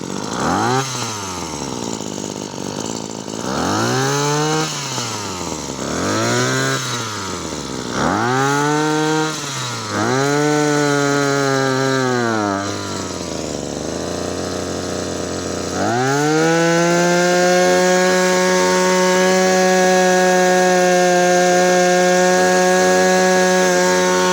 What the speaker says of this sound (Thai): มาลองเล่นเครื่องดูนะครับ